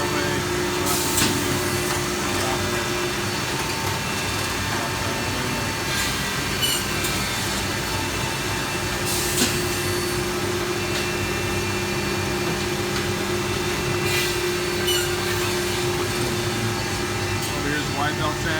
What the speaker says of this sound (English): over here's a wide belt sander